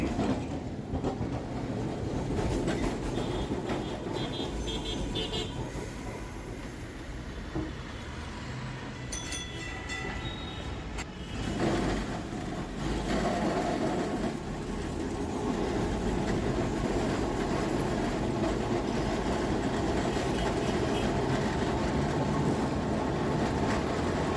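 A Kolkata tram rolls along its route with a steady loud rumble and rhythmic clacking of wheels over rail joints, continuous throughout, with occasional higher squeals and rattles.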